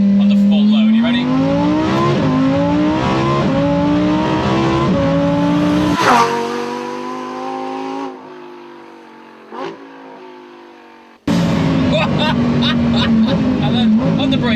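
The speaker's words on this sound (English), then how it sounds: "see what this thing feels like on the full load" A Lamborghini Huracan STO accelerates hard at full load, its engine pitch climbing through several rising sweeps with sharp gear changes, then dropping away before a loud surge resumes; heard from inside the car.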